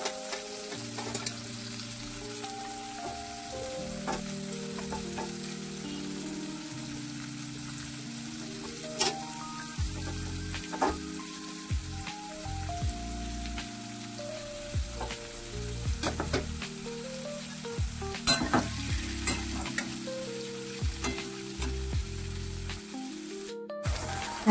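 Chopped onion and tomato fry and sizzle in a pan, a continuous hiss with intermittent scrapes and stirring knocks, while background music plays underneath.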